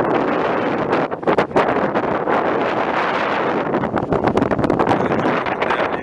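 Strong wind gusts across an open countryside field near a village by Manyas, roaring steadily into the microphone with rustling bursts and no voices.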